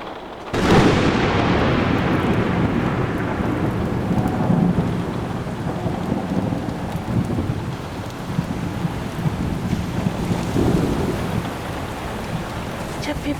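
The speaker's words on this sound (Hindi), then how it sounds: "बारिश की बौछारें खिड़की के शीशे से टकरा टकरा कर लौटती और हर बार हवा की वेग के साथ पहले से ज़्यादा जोर से टकराती" A heavy rainstorm lashes a window glass, opening with a sharp crack of thunder that rolls on beneath a steady roar of driving rain and wind.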